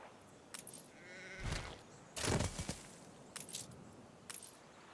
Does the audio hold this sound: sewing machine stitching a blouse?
no